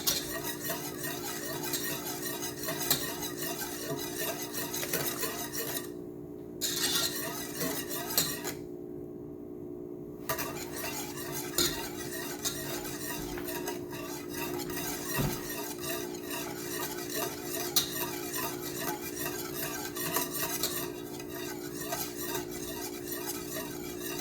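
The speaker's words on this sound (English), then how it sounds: "just the continuous stirring." A spoon scrapes steadily around a pot of thickening sweetened condensed milk over the heat, soft continuous stirring with a faint bubbling simmer beneath, quiet and close with no talk.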